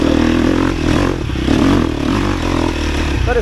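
A 250 or 350 motorcycle engine revs loudly up close while being ridden, with rising and falling throttle and rattling mechanical clatter throughout.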